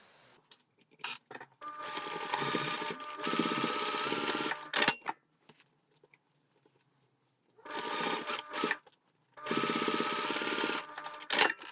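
A sewing machine stitches a seam with a 1 centimetre seam allowance on a lining, running in two sustained close bursts separated by a quiet pause, with short stops and clicks between runs.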